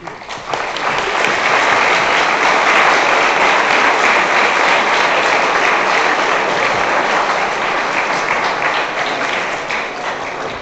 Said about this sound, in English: you can applaud her for her really good help